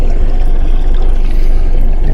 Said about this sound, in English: We turned off the bubbles, but it's still kind of gurgling in here.